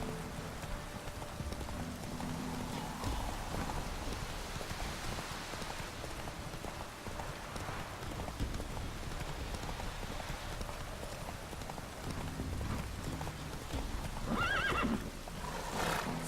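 Roach, a horse in The Witcher 3: Wild Hunt, neighs and whinnies with steady clip-clopping hooves, over a constant hiss of rain, loudest near the end.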